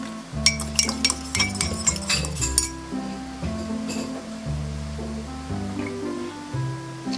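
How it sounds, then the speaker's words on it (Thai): Egg mixture with salmon and stock stirred in a bowl for homemade dog food, with quick clinks of a utensil against the bowl for a few seconds before soft background music continues alone. "คนให้เข้ากันนะคะ และน้ำสต๊อกค่ะ"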